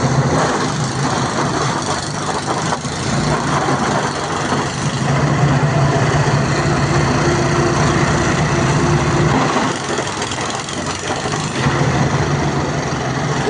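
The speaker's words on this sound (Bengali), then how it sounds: "বাংলাদেশের জাহাজ যাচ্ছে দেখুন" A Bangladeshi cargo ship passes under the Namkhana bridge near the Sundarbans. Its engine gives a steady, loud, low drone that holds through the whole stretch, with a broad wash of noise over it and no talk.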